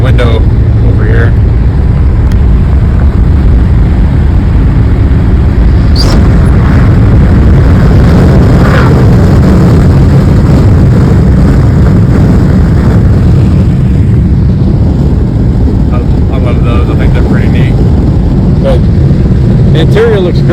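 Steady broadband wind roar and road rumble inside a moving 1965 Chevrolet Bel Air with a window open, continuous and loud throughout, with occasional faint knocks and bumps over it.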